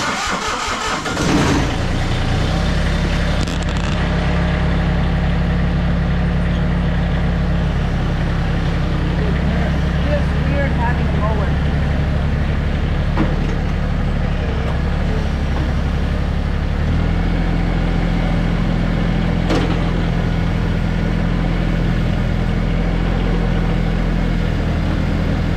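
A tractor engine runs steadily at close range, a deep continuous mechanical drone that starts up at the beginning and holds throughout, with a slight shift in pitch partway through and no talking.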